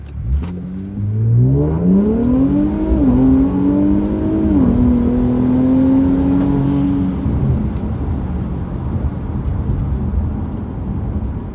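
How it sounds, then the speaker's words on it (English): A 2016+ Infiniti Q50 3.0t with a Soho Motorsports aftermarket exhaust revs up hard and loud, pitch climbing through gear changes, then the roar settles into a steady drone before fading into road noise. "I'm gonna just hit the throttle and drive."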